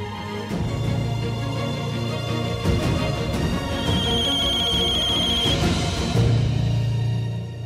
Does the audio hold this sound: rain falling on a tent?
no